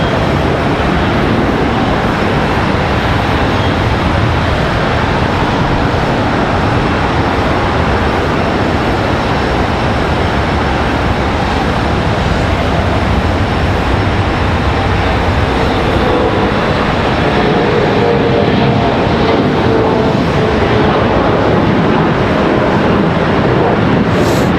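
Steady, loud broadband jet roar from a Spirit Airlines airliner moving at Charlotte Douglas International Airport, a continuous rumbling wash that holds level throughout with no talk over it.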